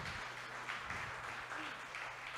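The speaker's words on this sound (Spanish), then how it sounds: "Vamos a darle un fuerte aplauso al Señor." A congregation applauding during a Spanish-language church service, a dense steady wash of clapping at moderate volume, with murmured voices mixed in.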